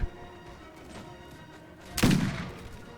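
A volley of musket fire from grenadiers in Mount & Blade Warband, one loud booming crack that rolls out and fades, following a faint thump and quiet ambience.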